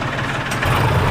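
A tractor engine hauling an iron-pipe trolley rumbles low and steady nearby, swelling a little louder partway through as it pulls; no voices.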